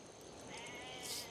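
A sheep bleats in the Civilization V video game, one wavering, nasal call rising out of a low ambient game backdrop. It is brief and moderately faint, with no voices.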